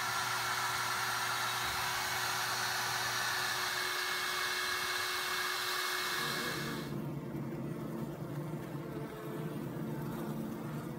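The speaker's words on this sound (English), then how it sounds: "I'm gonna vac one more time and start cutting comb." A bee vacuum roars at close range during the removal of a honey-loaded hive, a steady, airy whine with a constant hum that shifts to a duller, muffled tone partway through and keeps running to the end.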